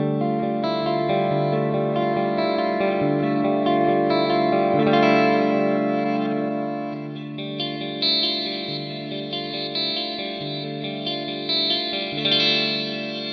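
Mooer GTRS M800 electric guitar played through effects with chorus, reverb and some drive, first on the stock neck humbucker and then on a 60s Strat model, giving sustained ringing chords and notes, steady and fairly loud with no talking.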